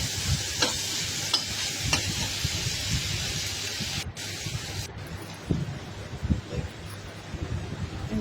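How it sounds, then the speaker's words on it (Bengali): Small shrimp frying in oil in a pan, a steady close sizzle with occasional stirring scrapes and pops running throughout. "প্রায় হয়ে গেছে আমার চিংড়ি মাছ ভাজা।"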